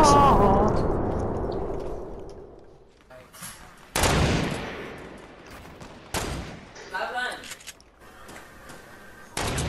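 Gunfire in Fortnite, a 50v50 match: sharp shots crack out several times, near and loud, over a fading rumble and busy in-game ambience with mechanical clatter.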